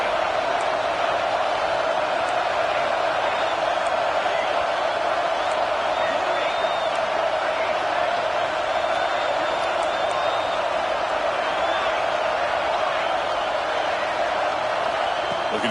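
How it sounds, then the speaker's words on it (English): Crowd noise fills a football stadium as a continuous roar with whoops and cheering running throughout, heard under steady commentary. "listen to this crowd noise. This stadium is vibrating."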